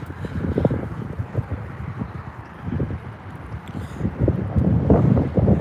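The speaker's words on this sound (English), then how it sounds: "I can't do anything about the wind" Gusty wind buffets the microphone on an outdoor walk in Scotland, a close, rumbling roar that swells and eases, with faint footsteps beneath.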